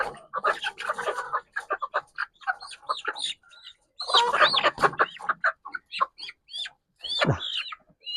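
Native hens on a farm cluck in short bursts and clustered calls, fairly close and moderately loud, with pauses between the outbursts.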